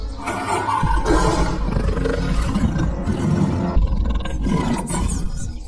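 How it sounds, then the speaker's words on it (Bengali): Two cartoon tigers in the Sundarbans roar loudly and repeatedly at a snake, deep sustained growling roars overlapping with little pause across the whole stretch. "বাঘ দুটো সাপটাকে দেখতে পেয়ে জোরে জোরে গর্জন করতে থাকে।"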